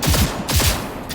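Rapid bursts of gunfire from Cyberpunk 2077, several loud shots in quick succession close up, then a trailing rattle of further fire, with no talking.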